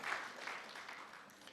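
A church congregation claps during a Sunday service, a soft, distant patter of applause that fades gradually over a moment.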